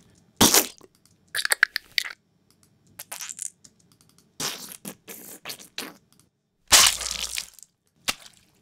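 A series of wet, crunchy splatter bursts, irregular and close, separated by brief silences, with one heavier squelch near the end.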